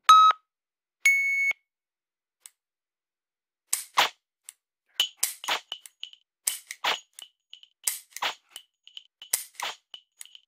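Laser dry-fire trainer at a practice session: two electronic beeps open, then a string of sharp simulated shot clicks in quick, uneven bursts, close and clear with no talking.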